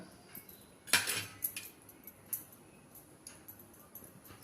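A metal spoon clinks sharply against a cooking pot as jaggery goes into a colocasia leaf curry, one bright clatter followed by a few lighter taps, close by with no talking.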